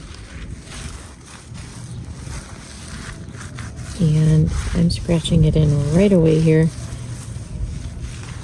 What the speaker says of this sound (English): because it's pretty windy.